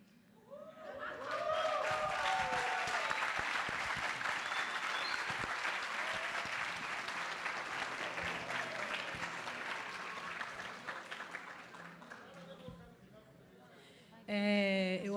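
Audience applause at an academic law conference panel, rising quickly into sustained, loud clapping from a large room that tapers off near the end, with a few chuckles and voices at the edges.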